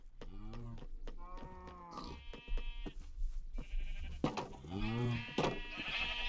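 Blocky Minecraft sheep bleat several times in a row, wavering and fairly close, while someone talks at times between and over the calls.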